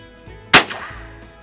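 A Winchester Model 1906 pump-action .22 rifle, first production year, fires a single sharp shot that strikes a steel target, followed by a brief low-toned ring, alone with quiet background.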